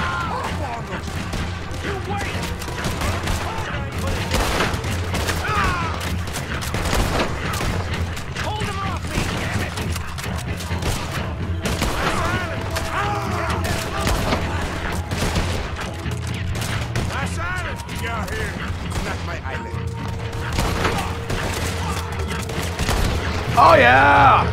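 Dense, rapid gunfire and explosions in the video game Red Dead Redemption 2 during the Saint Denis bank job shootout, with continuous overlapping shots and thumps and a person talking over the battle.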